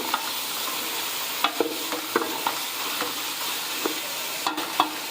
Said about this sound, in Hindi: अब गोश्त को हम भून लेंगे।